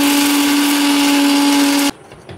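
An electric mixer whirs steadily through cake batter for nearly two seconds, a strong constant motor hum, then cuts off abruptly, leaving faint room noise.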